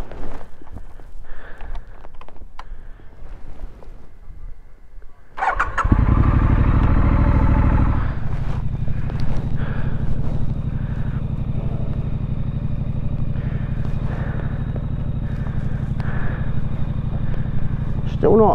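A Triumph Street Scrambler starts up with a burst of revving, then settles into a steady, loud engine rumble, with some talk before the start.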